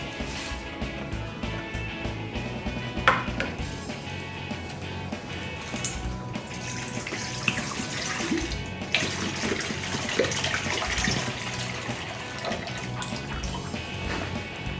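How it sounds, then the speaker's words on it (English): Water from a bottle poured into a large bowl, a steady splashing pour that runs continuously and fairly close, with a few small drips and knocks. "Now empty your water into the large bowl."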